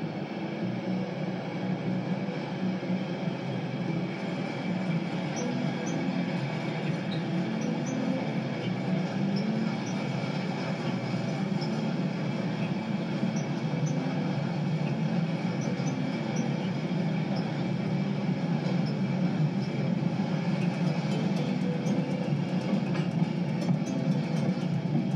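The Orient Express passenger train rumbles steadily along the rails between London and Folkestone Harbour, a continuous low clatter and hum with faint rhythmic knocks, moderately loud and unbroken throughout.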